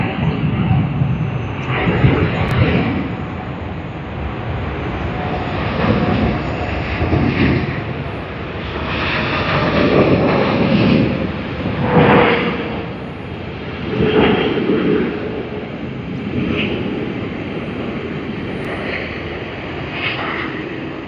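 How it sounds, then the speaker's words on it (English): An airliner landing at Sydney Airport roars with thrust reversers deployed, a loud broad sustained rushing that swells and ebbs over twenty seconds, heard from a distance outdoors with faint voices. "Thrust reversers deployed"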